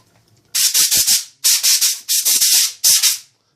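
A boring tool cuts a choke into a tactical shotgun barrel in four harsh bursts of rapid, raspy scraping strokes, each lasting under a second, with short pauses in between.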